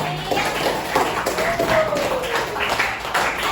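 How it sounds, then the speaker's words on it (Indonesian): A classroom of students claps for a classmate who has just finished presenting a group discussion, a short, dense burst of applause close by that runs throughout, with a voice speaking over it. "tepuk tangan untuk teman kita yang sudah kami"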